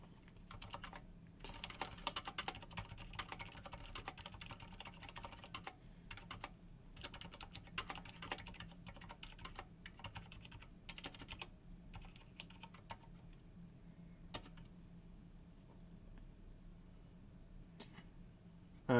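Steady typing on a keyboard fitted with Cherry MX Silent Black switches during an SKB75 build, muted keystrokes in quick irregular bursts carrying on throughout, close and fairly loud, with no one speaking.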